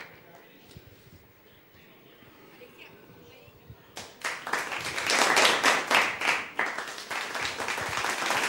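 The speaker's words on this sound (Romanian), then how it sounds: "Aplauze pentru Micuța Radu" Audience applause bursts out for a child singer at a children's song performance, dense clapping starting partway through after quieter background murmur and continuing loudly to the end.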